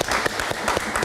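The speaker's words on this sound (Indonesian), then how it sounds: "Tepuk tangan sekali lagi untuk Nirwono Yoga." Studio audience applauding on an Indonesian live talk show, a brief dense burst of clapping at steady loudness with no talk over it.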